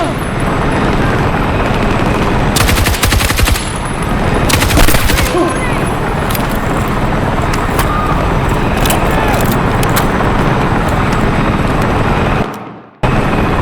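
Battle gunfire in a Battlefield 6 campaign mission: dense, continuous automatic weapon fire and blasts fill the scene, with sharper bursts around the third and fifth seconds, before a brief drop-out near the end.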